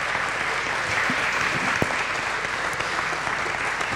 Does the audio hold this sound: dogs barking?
no